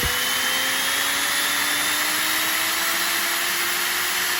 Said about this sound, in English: I maybe have the wrong drill for the job here